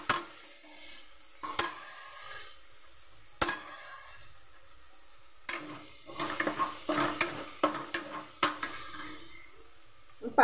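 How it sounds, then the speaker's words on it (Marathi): Peas fry in a pan with a soft, constant sizzle, broken by sharp spatula knocks and a quick burst of scraping stir strokes near the middle, close and fairly quiet. "वाटाणे थोडे फ्राय करून झाले आहेत."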